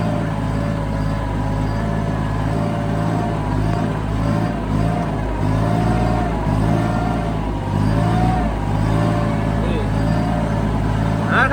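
Kubota B2140 tractor rotary tilling grass between rows on a farm field, with a steady, loud, droning engine hum throughout and someone talking over it.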